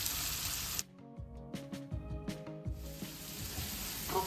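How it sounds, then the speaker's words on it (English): Onions with salt sautéing in a pan, a close, continuous crackling sizzle that drops briefly as they are stirred, then rises back to a steady fry. "Need to saute the onions for 2 to 3 minutes."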